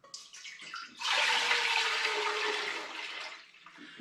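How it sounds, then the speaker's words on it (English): Cloudy homemade apple cordial made from windfall apples pours into a clean pan. A few light knocks come first, then a strong gushing pour runs for about two and a half seconds before tapering off. "So I'm going to transfer the cordial into a clean pan."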